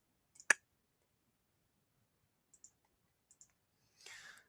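Computer mouse clicks in a quiet room, a sharp click followed by a few faint paired clicks and a short rustle at the end.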